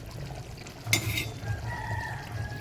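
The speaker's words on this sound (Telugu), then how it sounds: "రైస్ యాడ్ చేసింది, బాగా కలుపుతుంది" Rice being stirred into a cooking pot for Telangana-style bagara rice, a brief metallic scrape and clatter of the spoon against the pot over low background hum, with faint traffic noise from a nearby road.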